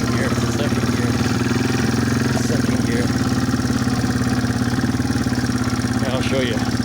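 A Yamaha TW200 motorcycle runs in second gear on a wooded trail, its single-cylinder engine thumping in a steady, rapid rhythm close by, loud and continuous.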